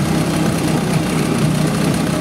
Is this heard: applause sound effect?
no